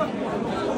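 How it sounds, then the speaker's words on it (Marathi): Voices from a crowd gathered at Yamunotri temple form an indistinct, steady murmur of chatter that lasts only a moment. "गर्दी हळूहळू वाढत चालली आहे इथे"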